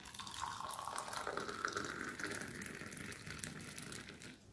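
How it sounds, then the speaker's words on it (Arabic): Hot boiled water pours steadily into a cup for the whole stretch, a continuous close splashing trickle heard alone without any talk. "هنبدا ان احنا ناخد كوبايه الميه السخنه او المغليه كده اهو"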